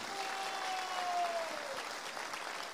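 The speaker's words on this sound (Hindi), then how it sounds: "मैं चाहता हूं एक जोरदार ताली हमारे गुरुदेव मिस्टर शिव कुमार सर के लिए होना चाहिए" Audience applause at a network marketing business seminar, a steady dense wash of clapping from a crowd that carries on for the whole stretch, with a faint sustained tone running underneath for a moment.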